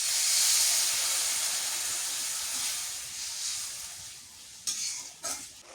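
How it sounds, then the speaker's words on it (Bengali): Water is poured into a hot pan of frying spices, turmeric, chili powder and garlic paste, for a hilsa fish curry, bursting into a loud, steady hiss of sizzle and steam that gradually fades, followed by a couple of sharp stirring clatters. "পানি দিয়ে দিই একটু।"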